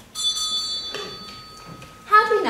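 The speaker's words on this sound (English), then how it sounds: "Slam will start on Hillary's bell." A bell rings to open a science slam: bright, sustained metallic tones that ring out, fade, then come back with a second louder strike near the end, with faint room noise underneath.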